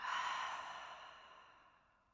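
A single long, deep exhale during a gentle yoga breathing exercise for nervous system reset, breathy and close, starting strong and slowly fading away over about two seconds with no talking.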